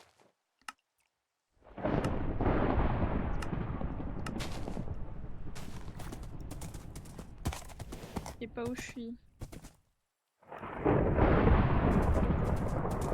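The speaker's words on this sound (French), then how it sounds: "Oh la vache, l'orage." Thunder booms from a storm in a Minecraft jungle, a long loud rolling crash followed by a second heavy rumble, with a few players chatting in French around it.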